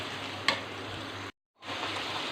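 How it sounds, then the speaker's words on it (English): Mutton pieces on the bone frying in a karahi, giving a continuous close sizzle with one brief clink, broken by a short moment of silence before the frying resumes. "fry it so that its smell will finish and it will fry"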